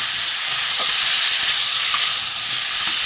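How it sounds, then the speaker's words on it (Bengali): A vegetarian curry sautés in a pan, giving a steady, even sizzle and hiss that runs unbroken and fairly loud throughout, with no one speaking. "একটু ভালো করে কষিয়ে নেবো বন্ধুরা"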